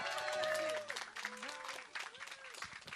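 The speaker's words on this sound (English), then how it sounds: "If we could all give them a round of applause." Wedding guests clap at a reception during a best-man speech, a moderate burst of applause mixed with crowd murmur and a few voices, fading and thinning toward the end.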